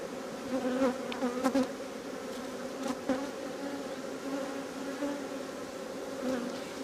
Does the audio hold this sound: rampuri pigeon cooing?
no